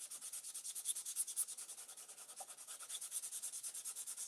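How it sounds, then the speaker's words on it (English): Extra fine sandpaper is rubbed lightly along an edge in a steady series of soft, rhythmic back-and-forth hissing strokes, close up and faint, with no talking. "I'm just going to take a fine, very extra fine sandpaper and lightly"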